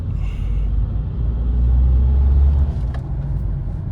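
Tata Punch 2026 with a manual gearbox driving through city traffic, a loud low engine and road rumble inside the cabin that swells briefly, with a faint hiss near the end.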